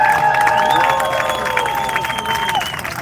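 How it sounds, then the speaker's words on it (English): A crowd at an outdoor political rally claps and cheers loudly, with sustained whoops and shouted voices over continuous applause for a speaker. "Big clap for Ali."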